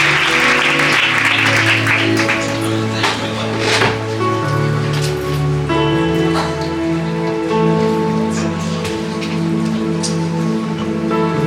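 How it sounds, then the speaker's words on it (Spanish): A church congregation applauds steadily through the whole stretch, a dense crackling wash of many hands, with sustained instrumental tones ringing beneath and no voices standing out. "¿Qué les parece si aplaudimos a la palabra del Señor?"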